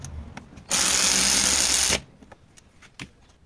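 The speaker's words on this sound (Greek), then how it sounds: "Βιδώνουμε και την δεύτερη." A power tool whirs steadily for just over a second as it drives in the second bolt of the starter motor on a Piaggio Beverly 300 ie scooter, loud and close, then stops, followed by faint clicks of handling.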